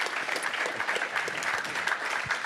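Audience applause at a museum lecture on megalodon and ocean giants, a steady dense clapping from a seated crowd that holds at an even level throughout without a break.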